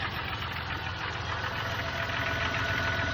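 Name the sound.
2004 Jeep Grand Cherokee engine running with AC clutch engaged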